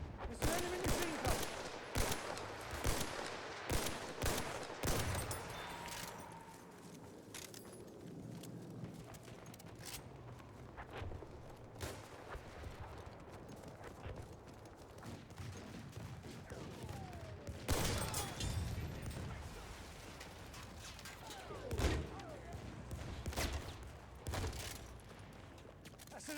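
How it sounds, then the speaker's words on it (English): An enemy machine gun fires in a combat video game, dense rapid rattling bursts opening loud, then scattered gunfire and distant booms continuing, with occasional voices in the background. "There's an enemy machine gun!"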